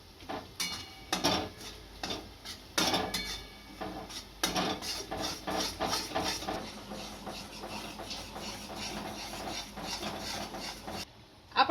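Gram flour and moong dal being slowly roasted in a pan over a low gas flame for halwa: steady scraping and rubbing of a spoon against the pan, with soft clinks, close and fairly quiet.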